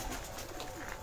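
Old desi pigeons coo softly on a rooftop, a brief, faint, muffled burble in open air.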